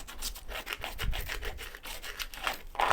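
A plastic scraper rasps and scrapes expanding foam off a window frame in steady repeated strokes, close and moderately loud, with no talking.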